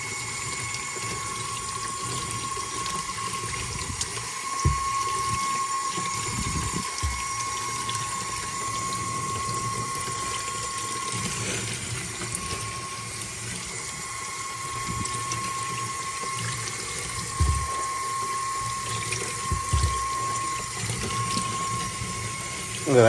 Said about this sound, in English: just keep going at this until the water comes out clear from the filter